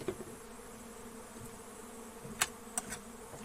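A steady hum of buzzing honey bees, close and continuous, with a few faint clicks and taps over it, during honey harvesting from the hive.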